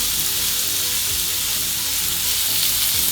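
Prawns frying in hot oil, giving a loud, dense, continuous sizzle close by, with no pauses.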